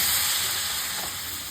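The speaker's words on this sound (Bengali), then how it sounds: "একটু আলুটা নাড়া দিয়ে নিই। গ্যাসের ফ্লেম বাড়িয়েই করছি" Boiled baby potatoes frying in oil over a high gas flame while being stirred, a steady, loud, close sizzle and hiss that continues unbroken throughout.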